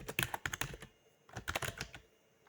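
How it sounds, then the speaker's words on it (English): Fast keystrokes on a computer keyboard while coding a website, two quick bursts of close, crisp clicking with a brief pause between them. "Let's type it properly."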